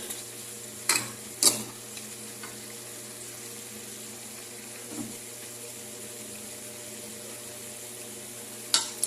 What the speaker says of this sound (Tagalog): Halo-haloin muna natin.